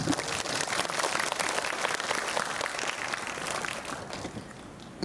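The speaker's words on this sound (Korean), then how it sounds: "박수 한번 부탁드리겠습니다." An audience applauds during a post-screening talk for a Disney+ series at the 27th Busan International Film Festival, held in a CGV cinema, with sustained even clapping that fills the room and then thins out near the end.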